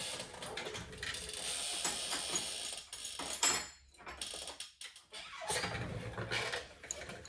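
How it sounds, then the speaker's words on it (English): A wrench turning the engine of a 1967 Honda CT90 over to top dead center, giving close, dry ratcheting clicks in uneven bursts with brief pauses, no talk. "And that'll turn your wrench."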